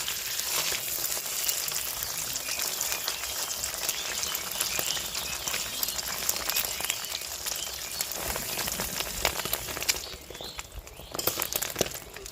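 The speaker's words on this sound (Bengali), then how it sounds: "ডিমটা ভাজা হয়ে গেছে, এখন উঠাইয়ে নেই।" An egg frying in hot oil crackles and sizzles continuously and close up, a dense spitting hiss that eases briefly near the end.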